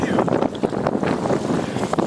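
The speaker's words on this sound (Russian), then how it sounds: "Так, ветер дикий, опрокидывают камеры, стульчики, подсаки и все такое." Strong wild wind buffets the microphone beside the water at a Zaporizhzhia fishing spot, a broadband roar with gusty surges throughout, while faint voices murmur underneath.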